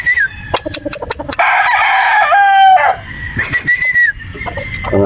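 A gray gamefowl rooster at a game farm in Batangas crows loudly and close, a long drawn-out cock-a-doodle-doo, with sharp clucks and other fowl calls before and after it.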